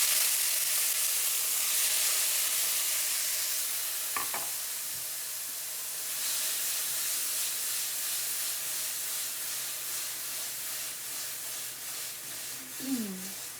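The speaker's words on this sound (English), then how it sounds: "Hear that sizzle." Chopped vegetables sizzle steadily in a hot frying pan on low heat, a continuous soft hiss of frying with a couple of brief clinks and stirring sounds.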